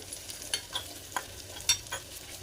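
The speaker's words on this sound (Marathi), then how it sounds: "ती पण आपण छान मिक्स करून घेऊयात." Kashmiri red chili powder is stirred into a sizzling tadka for dhaba-style chole, with soft, repeated spoon strokes over a steady, quiet crackle of hot oil and no voices.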